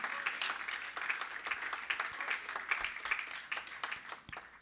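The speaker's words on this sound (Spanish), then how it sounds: "Dale palmas al Señor." Church congregation clapping for the Lord during a Spanish-language communion service: dense, rhythmic hand claps that fill the whole moment at a moderate level, with faint voices mixed in.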